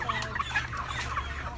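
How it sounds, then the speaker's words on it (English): A worn-out chicken struggling to breathe in the heat makes a steady run of close, raspy clucks and strained breaths over a constant low background hum, with no talking. "Bird is having trouble breathing."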